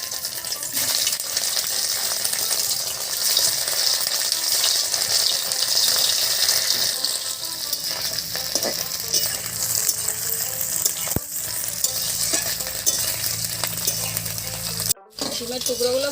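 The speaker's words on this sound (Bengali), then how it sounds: "এবার আমি ডিমের টুকরোগুলোকে ভেজে নেব।" Egg pieces frying in hot mustard oil in a pan for egg and jackfruit curry, a continuous bright sizzle close up with occasional clinks and stirring scrapes, no talking.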